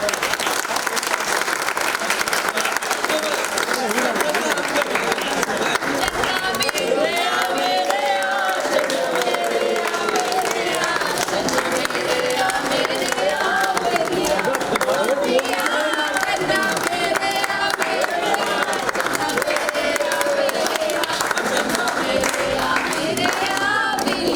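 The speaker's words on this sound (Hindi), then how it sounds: "एक बार जोरदार तालियां हमारे ग्रुप के लिए" A group at a TV serial's 100th-episode celebration with cake cutting gives loud, sustained applause, steady clapping mixed with cheers and overlapping voices of people talking and calling out nearby.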